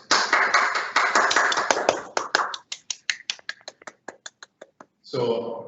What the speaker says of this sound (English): let's give great applause for her